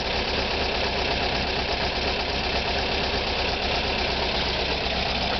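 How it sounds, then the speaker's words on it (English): A 1977 Volkswagen Westfalia camper with stock dual carburetors idles steadily with a loud, even, continuous engine drone and slight exhaust-leak roughness, close by, with no voices. "Got the motor pretty much set up, dialed in."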